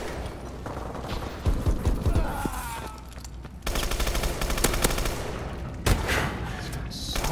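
Automatic gunfire from a weapon in Call of Duty: Advanced Warfare, rapid bursts rattling close and loud with short pauses between volleys, set against busy game ambience.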